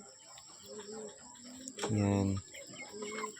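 Free-range chickens loose on a Philippine homestead give a short, loud clucking call in the middle, with fainter bird chatter before and after and someone speaking briefly.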